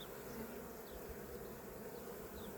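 Honey bees buzzing around hives in early spring, some robbing frames from dead colonies; a dense, continuous hum of many insects with individual bees droning past close by, no voices.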